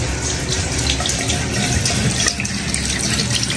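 Steady tap water runs into a sink while an egg is rinsed under it, a continuous close hiss and splash with no talk.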